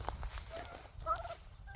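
Turkeys on a farm give a quick burst of gobbling, close and moderately loud, among other faint farmyard noise.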